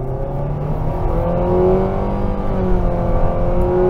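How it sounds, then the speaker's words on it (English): A 2022 Nissan Sentra Midnight Edition accelerating at full throttle from a green light, heard from inside as a loud, steady engine drone whose pitch climbs gradually and smoothly, with no talking. "Flooring it at a green light."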